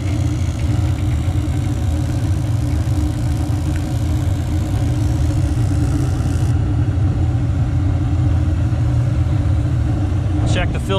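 On an old Armstrong packaged rooftop unit, the draft motor runs with a steady, loud mechanical drone and low rumble. It holds constant throughout, with a few faint clicks near the end.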